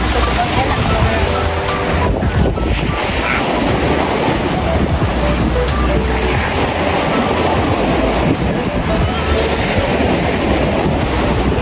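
Big sea waves surge and crash continuously alongside heavy wind buffeting, with people talking over the steady roar.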